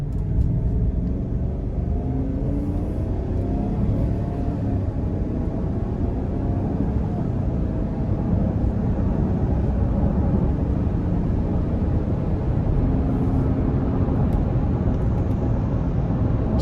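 A 2024 Chevrolet Suburban RST with the 5.3 V8 accelerating hard, giving a steady, loud low engine rumble heard from inside the cabin, continuous and unbroken throughout with no talking.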